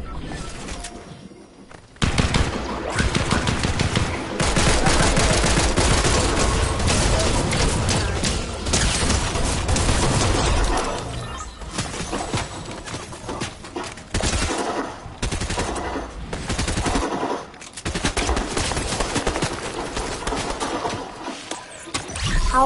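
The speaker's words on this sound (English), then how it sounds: "who's shooting over here?" Sustained heavy gunfire in a battle royale video game, long loud bursts of automatic fire with brief pauses between volleys, close and dense for most of the stretch.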